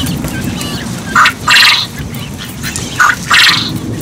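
Backyard poultry, a flock that includes hens, giving two short bursts of odd, honking quack-like calls against a steady background rumble of rain and thunder.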